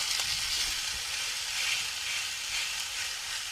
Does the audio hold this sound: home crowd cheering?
no